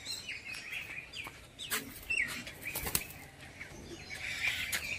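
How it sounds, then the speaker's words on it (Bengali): A female pigeon beats its wings in flight, giving several sharp, close flapping bursts scattered through the clip, with faint chirps from other birds around. "এটা একটা মাদি পায়রা।"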